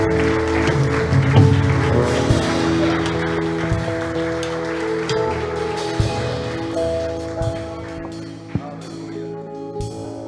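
A church congregation claps along and applauds in worship while music plays underneath, a continuous pattering of many hands mixed with sustained instrumental tones and occasional sharper hits.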